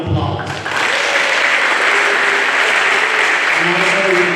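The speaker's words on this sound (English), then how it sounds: "let's give Jasmine Ringland a round of applause" An audience at a spelling bee competition breaks into loud, sustained applause for Jasmine Ringland. A brief voice comes just before the dense clapping swells and holds steady.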